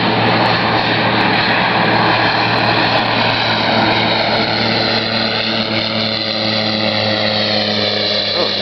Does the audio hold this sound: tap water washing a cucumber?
no